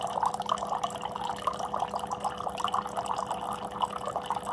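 Water runs from a filtered drinking water dispenser fed by rainwater catchment, a steady close trickle with faint dripping and a constant electric hum beneath, no talk.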